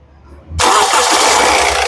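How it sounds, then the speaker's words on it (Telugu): A 2015 Honda City VX engine cranks once and fires up on the first try. It catches abruptly and settles straight into a loud, even idle, close by. "సింగిల్ సెల్ఫ్ లో కార్ స్టార్ట్ అవుతుంది"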